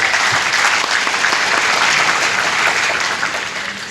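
A large audience at an Islamic college graduation ceremony claps for its graduates, a dense, loud, continuous wash of applause that tapers slightly toward the end.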